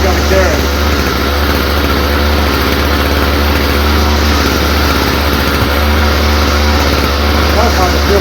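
A Stihl FS45 string trimmer engine runs steadily, a loud, buzzing two-stroke drone that sounds rough because of fuel trouble, with someone talking over it.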